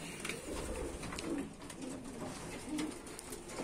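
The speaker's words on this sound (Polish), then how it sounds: "No i wziąłem, złapałem kilka gołębi takich." Pigeons coo softly and repeatedly nearby, low rolling calls recurring in a loose rhythm over quiet indoor background.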